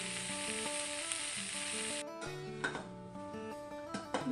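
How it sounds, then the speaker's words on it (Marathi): Fish sizzles in oil in a pan as it cooks on its second side, a steady hiss that drops away partway through, then returns with clinks, with soft music playing beneath. "आता इकडून पण दुसऱ्या बाजूने पण मस्त मस्तपैकी शिजवून घेऊया"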